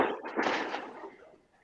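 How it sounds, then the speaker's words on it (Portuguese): Fireworks set off outdoors, heard as a dense, broad burst of crackling and booming that swells early and then fades away over a second and a half, with no one talking. "estão soltando fogos de artifício aqui."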